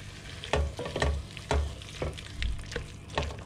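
Sliced tomatoes and tomato puree cook with seared pork in a frying pan, a low sizzle punctuated by regular scraping stir strokes roughly every half second, close and moderately quiet, with no talking.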